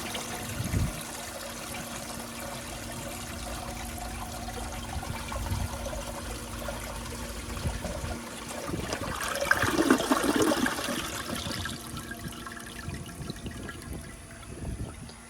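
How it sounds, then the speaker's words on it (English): A 1959 American Standard one-piece toilet flushes in a bathroom, a long steady rush of water with a swell of turbulent gurgling midway, then trickling and refilling as it tapers off, close and alone. "So let's give this toilet a flush"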